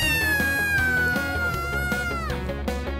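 A young male kitten meows in a sustained, drawn-out call with a gliding pitch, close and fairly loud over a steady background tone.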